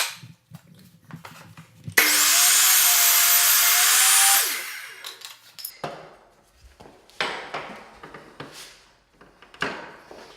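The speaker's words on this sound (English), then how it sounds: "Then I'm gonna use the saw and turn it square and trim that piece right" A power saw cuts a 45-degree wooden window trim piece, starting with a loud, steady whine that lasts about two seconds. Clunks and knocks follow as the trim is handled nearby.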